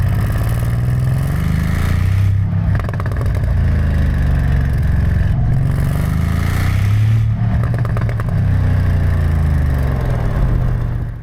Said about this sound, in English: I will try and capture some exhaust sound from the back just so you can hear it now.